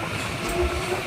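A Puducherry–Tirupati MEMU Express train pulling away from Reddipalayam station, its steady rolling rumble and faint rail clatter continuous and close, with no voices.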